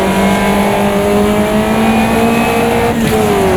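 Caterham race car engine lapping Cadwell Park in Automobilista 2, a loud, steady high-pitched drone holding one tone, then dipping briefly near the end as it shifts, heard alone without talk.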